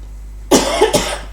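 Two sharp coughs close together from a person with a tickle in the throat while getting over a cold, the first louder, the second a quick follow-up, heard up close against a quiet room.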